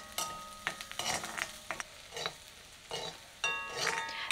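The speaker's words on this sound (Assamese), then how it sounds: "পিঁয়াজখিনি অলপ কোমল হোৱাৰ পিছতে ইয়াতে কাটি ৰখা আদা আৰু নহৰুও দি দিওঁ আৰু লগতে সকলোখিনি এবাৰ লৰাই দিছোঁ ভালদৰে" Chopped onion, ginger and garlic sizzle in a pan for a masoor dal, with repeated scraping stirs over a steady fry; close by, no voices.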